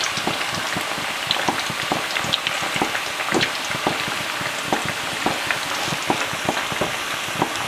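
Neapolitan meatballs frying in a pan, a steady broadband crackle and sizzle dotted with frequent sharp pops and spatters, close and continuous without any talk.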